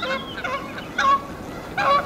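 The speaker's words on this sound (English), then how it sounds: "Lots of geese." Geese honk in a few short bursts of overlapping nasal calls, moderately close, outdoors near farm stubble fields with no talk.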